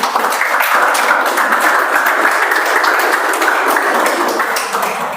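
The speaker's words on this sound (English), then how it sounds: "Please clap" Steady, dense audience applause at a club speaking meeting as a guest speaker is called forward, loud and sustained throughout without a break.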